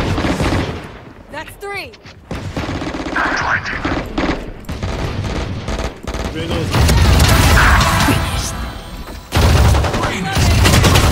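Rapid automatic gunfire from a video game, bursts of shots and booms overlapping with game voice lines and music, while a person talks over the action.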